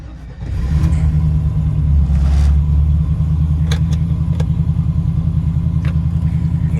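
A Chevrolet Camaro engine cranks and fires up, then settles into a loud, steady rumbling idle close by.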